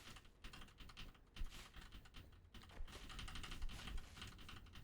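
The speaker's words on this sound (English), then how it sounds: "As you can probably hear from the mashing of my keyboard." Computer keyboard keys being mashed rapidly, a dense run of close clicks and clacks with uneven bursts and no pauses, with no talking.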